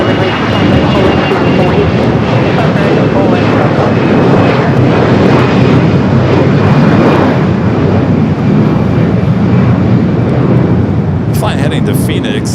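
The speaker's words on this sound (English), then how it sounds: "runway 25 right, cleared for takeoff" An airliner takes off from runway 25 right at LAX, a loud, steady roar of jet engines that fills the whole clip, with a faint radio voice near the end.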